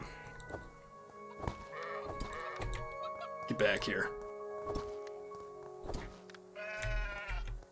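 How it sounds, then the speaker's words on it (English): Sheep in the video game Craftopia bleat amid gameplay noise, short nasal calls that repeat across the scene alongside thuds and clatter, with someone talking briefly. "See if we can kill a sheep."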